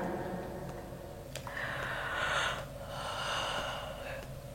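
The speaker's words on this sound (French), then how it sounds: "Vous avez vu? J'ai bâillé." A woman yawns in a long, drawn-out breath that swells and fades over a few seconds. It is close and soft, with nothing else heard around it.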